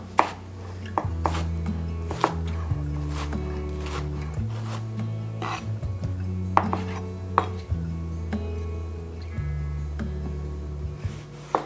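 A knife dices tomatoes on a cutting board in quick, uneven strokes, each chop a sharp tap, with background music playing throughout.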